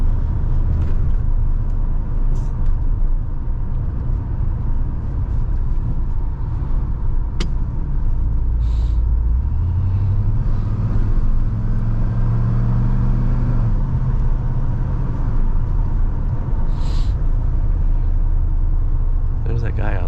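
A 1986 Ford F-150 pickup rumbles down a road at steady speed, its engine drone and road noise filling the cab as tires thump over patched pavement, with a few sharper knocks and a rising engine note midway.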